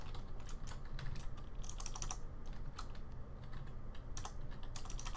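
Someone types a name on a computer keyboard, with quick clusters of crisp key clicks separated by short pauses, close and quiet with no talking.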